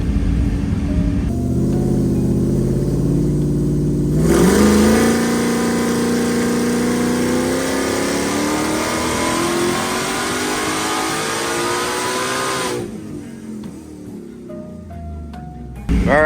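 A Coyote V8 swapped into an OBS Ford Lightning pickup revs hard through a dyno power pull, the loud engine note climbing steadily for several seconds before dropping back to idle, with no talking.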